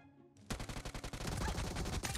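Gunfire from a first-person shooter video game, a dense rapid volley of shots starting abruptly and continuing steadily, fairly close and loud, without speech over it.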